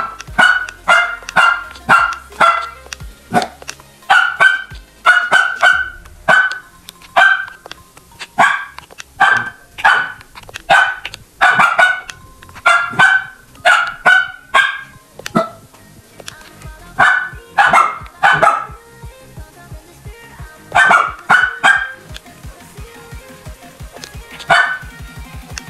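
A dog barks repeatedly and loudly close by, a long run of sharp barks in irregular bursts and clusters with brief pauses between, continuing throughout with little else heard.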